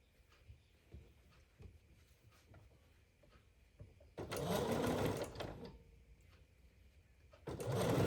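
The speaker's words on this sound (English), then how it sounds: "I am going to sew with seams down" A sewing machine stitching fabric with the seams down runs in two loud, close bursts of rapid mechanical whirring, separated by quieter handling clicks and rustles, with brief talk at low level.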